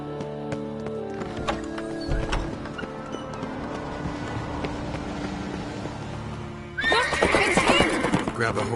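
In a video game, a horse gives a loud whinny near the end, with clip-clopping hooves and mechanical clatter before it and speech mixed in.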